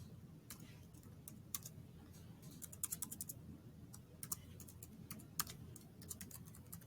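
Quiet, close keystrokes on a computer keyboard, a series of irregular taps in short bursts over a soft background hum with no talking.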